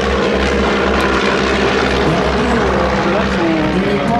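A Stampe biplane, one of a formation of four at a seaplane gathering in Biscarrosse, drones steadily overhead with a loud, continuous propeller engine roar while a voice talks in French.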